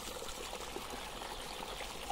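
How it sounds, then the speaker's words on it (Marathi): Irrigation water flowing evenly over a farm field, a steady close trickling and gurgling stream with no voices. "आता सगळं एकसारखं पाणी सोडलं"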